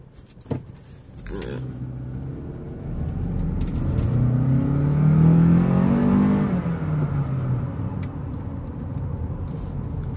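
2015 Toyota Camry four-cylinder engine accelerating on a test drive, a mid-pitched engine hum rising in pitch and loudness as it revs up through several seconds, then settling into steady road noise from inside the cabin.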